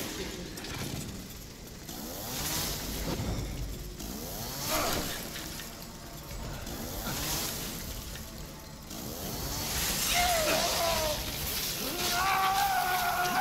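A chainsaw-versus-chainsaw fight in the video game Resident Evil 7: revving, buzzing saw engines rise and fall over several surges, mixed with game effects and a sharper whining tone near the end.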